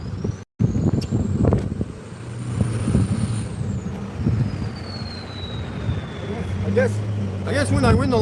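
Roadside traffic noise with passing trucks and cars, a hiss of air brakes and a rising then falling engine whine, heard close and fairly loud with a person talking over it.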